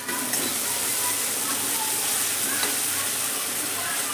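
Masala fried in a pan with very little oil while making soybean with dal, giving a steady, dense sizzle and stir noise that stays loud and even throughout, with no voices.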